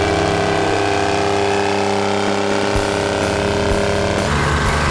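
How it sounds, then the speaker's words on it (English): An Australian-built Chamberlain Super 70 vintage tractor labours in a tractor pull, its engine droning loud and steady with a deep harmonic hum, a short rev change near the end. "Another Australian-built Chamberlain, that's a Super 70"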